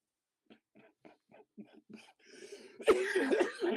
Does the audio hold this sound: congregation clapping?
no